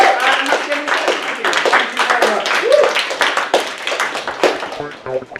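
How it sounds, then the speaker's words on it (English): A crowd claps in dense, sustained applause that stays loud throughout, then begins to thin out at the end. "One last round of applause for Jane and for Chris Kringle."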